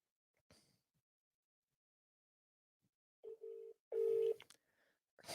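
Telephone dialing tones sound as a few short beeps and one longer steady tone, clear and close, surrounded by near silence and faint clicks.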